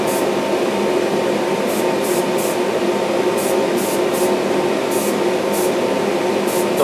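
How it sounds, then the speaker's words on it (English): Alclad chrome lacquer sprayed from an airbrush held a few inches from a model part, a steady close hiss running throughout, with short regular pulses of higher spray noise in bursts. "you don't want to spray too close"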